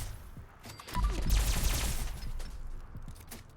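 Alien Blaster energy pistol fired twice in Fallout 76, a burst of sharp zapping shots over a dense rumbling low end with rushing, crackling high texture, loud and close, tailing off into background game noise.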